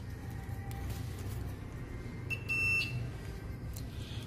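A multimeter gives a short, piercing continuity beep of about half a second while a phone IC is probed during repair, set against a steady background hum, with a few faint clicks around it.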